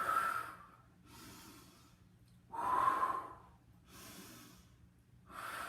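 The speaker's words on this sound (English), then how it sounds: "Breathing." Slow, deliberate breaths during a somatic Pilates mat workout: four or five long, airy inhales and exhales in a steady rhythm, close and fairly loud, with no talking over them.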